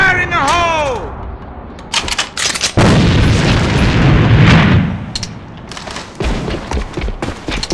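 Grenade blasts and gunfire in the shooter AVA, with loud booms, sharp rapid shots and a long rumbling explosion, punctuated by a voice shouting at the start.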